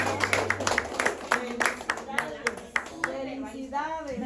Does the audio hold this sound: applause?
yes